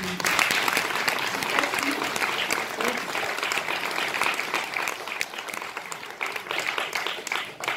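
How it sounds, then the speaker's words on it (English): Sustained applause from an audience at a book launch in a theatre, a dense wash of many hands clapping that stays fairly even throughout, fading slightly toward the end. "That's more applause."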